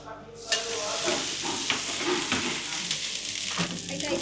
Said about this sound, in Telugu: సో బీట్రూట్ దోశ అయితే మనం దోశ వేసేసాము.